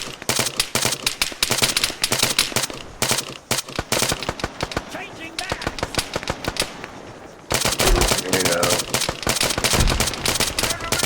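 Automatic rifle fire in an Arma military shooter, long rapid bursts of loud, close gunshots with a short lull in the middle before a dense burst resumes, and faint voices underneath.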